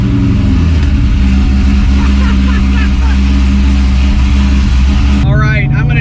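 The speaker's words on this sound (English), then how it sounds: "Cold start." A Chevy Corvette on freshly mounted Toyo Proxes R888R tires cold-starts, its engine catching and settling into a loud, steady idle rumble that fills the whole stretch before cutting off near the end, as a voice speaks briefly.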